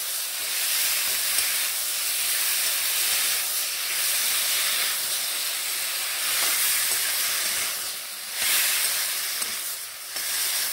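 Tomatoes and salt sizzle in hot tempering oil for a tomato chutney, a loud continuous hiss that swells and eases in slow waves, with no voices.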